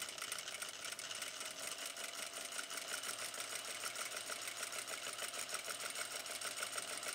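A sewing machine stitches fabric in a fast, even, continuous mechanical whir with a steady rapid needle rhythm, close and alone with no voices.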